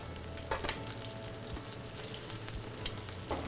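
Monkfish fillet frying in a hot pan, a steady close sizzle with a few brief crackles and pops and no talking.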